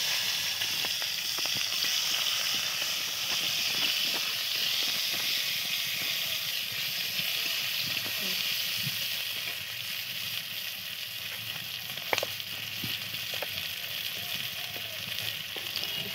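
Onions sizzle in hot oil with five-spice tempering for a Bengali rupchanda fish curry, a steady broadband hiss lasting throughout with a few small pops and crackles.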